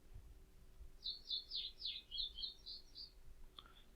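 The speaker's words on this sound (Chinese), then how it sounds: "这一种鸟叫声可能就不适合在海边" Birdsong for jungle ambience, a quick series of bright chirps and trills lasting a few seconds, clear and close over a quiet background, ending with a short faint call.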